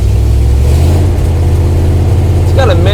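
A 1972 Dodge Power Wagon W300 wrecker's engine runs close and loud just after starting, a heavy low rumble that holds steady, with a brief voice near the end.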